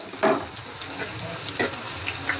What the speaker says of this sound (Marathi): आता तेलामध्ये 5 ते 7 मिनिटं आपण ही कांदा आणि मिरची परतून घेऊया।